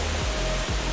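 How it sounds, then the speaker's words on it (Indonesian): Curug Cikaso, three waterfalls side by side, gives a loud, steady broadband roar of falling water, a constant wash with no breaks and no voices. "Ada 3 air terjun"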